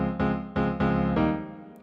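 Four dry piano notes and chords struck one after another, each ringing clean without echo before the last one fades out.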